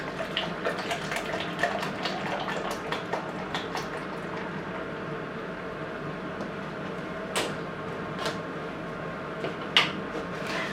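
600 ml of liquid dye poured into a pan of yarn for solid-colour hand dyeing, a steady close splashing pour with a few faint clinks near the end; no talking.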